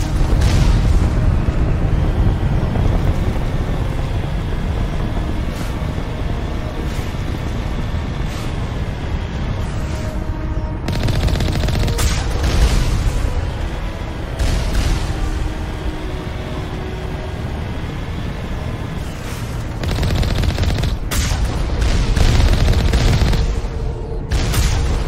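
Turrets are destroyed in the Mass Effect video game amid continuous loud, dense gunfire and booming explosions, a heavy roar that swells and eases over time with repeated sharp blasts.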